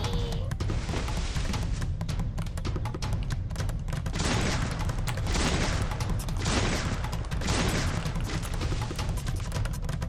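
Rapid gunfire in the video game Free Fire, dense crackling bursts of shots rattling almost without pause, loud and close, with swelling louder volleys throughout.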